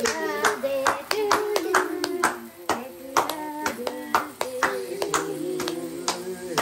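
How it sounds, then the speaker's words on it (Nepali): Hands clapping for a first birthday song: fast, steady, close claps throughout, with a sung melody and voices running underneath. "Tali बजाऊ Happy birthday to you."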